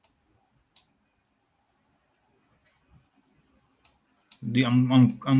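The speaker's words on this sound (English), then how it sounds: "clicking all the squares that are covered." Computer mouse clicking squares on an online chess board, a few sharp isolated clicks spaced apart in near silence, followed by a person starting to talk.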